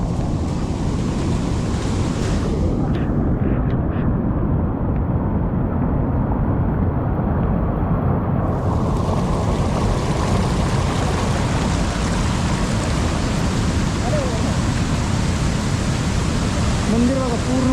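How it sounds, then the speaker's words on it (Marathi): Loud, steady roar of high-pressure water rushing through at the Thergaon boat club during flooding, a continuous broadband wash close to the microphone with no break throughout. "थेरगाव बोट क्लबवरती बघा किती पाणी चालू आहे प्रेशर"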